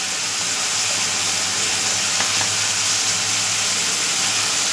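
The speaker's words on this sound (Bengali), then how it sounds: "আলুটা ভাজা হচ্ছে" Potatoes frying in a hot pan give off a steady, close, broadband sizzle and hiss that holds evenly for the whole stretch with no voices.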